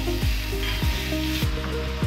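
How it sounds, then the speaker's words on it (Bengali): Shrimp frying in a pan, a steady close sizzle with repeated scraping strokes of a spatula roughly every half second. "এদিকে চিংড়িটাও ভেজে নিলাম"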